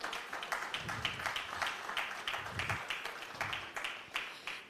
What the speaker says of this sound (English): a round of applause for him as he joins up